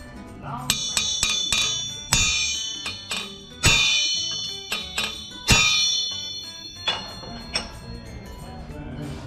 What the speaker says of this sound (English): It should sound like a bell when you hit it.